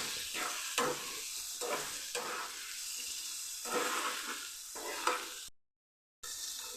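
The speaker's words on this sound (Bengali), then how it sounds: "অল্প একটু হলুদ গুঁড়ো দিয়ে আমি আলুটা ভালো করে" Potatoes frying in a pan seasoned with salt and turmeric, with steady close sizzling and repeated stirring strokes scraping through, briefly cut to silence near the end.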